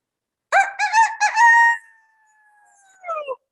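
A person imitates a rooster crowing with one loud, close cock-a-doodle-doo: choppy syllables rising into a long drawn-out wavering note, followed by a short pause and a few further voiced sounds.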